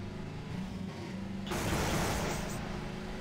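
A vehicle engine drones in Half-Life 2, a steady low hum that turns into a louder, rougher rush of noise midway as it pushes on, loud and with no talk.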